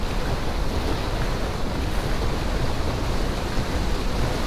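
Water in the Rise of the Tomb Raider video game while swimming, a dense steady wash of rushing noise, close and unbroken throughout.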